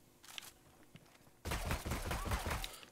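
Automatic shotgun fire in Ghost Recon Wildlands: after a quiet stretch with faint game ambience, a loud, dense volley of rapid booming blasts begins about halfway through and continues to the end, close and alone.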